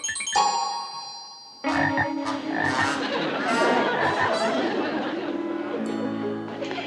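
A frog in a sitcom school scene croaks repeatedly in loud, rattling bursts up close, with chattering voices and tonal effects mixed in around it.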